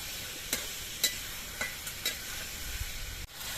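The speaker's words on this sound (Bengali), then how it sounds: "সবজিগুলোকে ভেজে নিতে হবে" Salted vegetables frying in a pan: a steady, close sizzle with a few sharp stirring clicks spaced through it, then a brief dip before the sizzle resumes.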